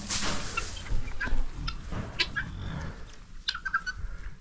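Guinea fowl call on a small farm outdoors, a scattered series of sharp, raspy cries at moderate distance with rustling in between.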